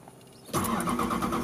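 A 1994 Lexus LS400 with 155,000 miles, starter known to act up, cranks briefly and catches, settling into a steady idle close to the microphone.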